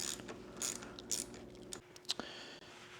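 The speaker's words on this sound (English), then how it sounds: "Next up, I'm gonna loosen this bolt. This is a 8mm on the 701." A ratchet loosens an 8mm bolt on the handlebar of a 701 motorcycle, quick close clicking pawl strokes with a brief mechanical hum that cuts off partway through, no talking.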